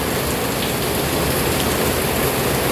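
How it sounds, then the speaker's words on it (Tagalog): Heavy rain pours down in a steady, dense, close hiss with no break or change across the whole stretch. "Ang lakas ng ulan, sa totoo lang lakas ng ulan dito."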